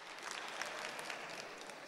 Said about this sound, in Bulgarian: Аплодисменти и за двамата.